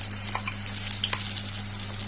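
Cauliflower pakoras dipped in gram-flour batter fry in hot oil with a dense, even crackling sizzle, close and steady throughout over a faint low hum.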